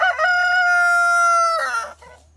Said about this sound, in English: I'm just out here with my chickens and a very noisy cockerel